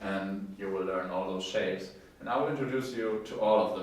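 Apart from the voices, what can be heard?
No distinct noise like a dog, phone or traffic.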